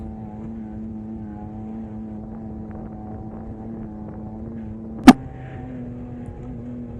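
Off-road vehicle engine droning steadily while riding up a mountain in Alaska, a constant low hum with wind noise and one sharp knock partway through.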